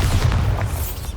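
A Bombarda spell blast in Hogwarts Legacy gameplay, a short, dense booming explosion with low rumble filling the whole moment.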